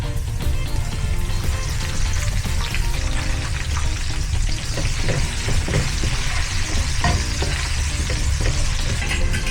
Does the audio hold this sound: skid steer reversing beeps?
no